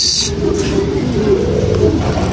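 Racing pigeons arriving at the loft, with close, loud low cooing that continues throughout.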